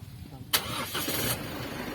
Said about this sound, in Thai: เราจะสตาร์ทเครื่องให้เลย